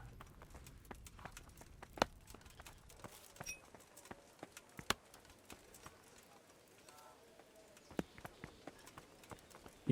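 Horse hooves clip-clop at a steady walking pace in the video game Kingdom Come: Deliverance, sharp spaced hoof strikes standing out against faint birdsong and quiet ambience.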